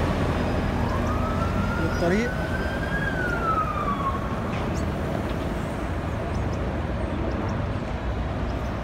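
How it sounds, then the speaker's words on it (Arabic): A single rising and falling emergency siren wails faintly in the distance in Manhattan, near Times Square. It sounds over a constant roar of city traffic, and a brief voice is heard. "صوت سيارات الاسعاف والبوليس بتتسمع على بعد عشرات الشوارع من تايم سكوير"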